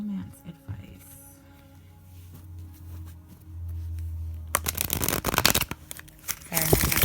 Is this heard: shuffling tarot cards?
yes